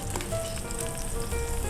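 Shallots and garlic fry in a hot pan while cooking nasi biryani, producing a steady, dense sizzle that stays even and close throughout, with no talking.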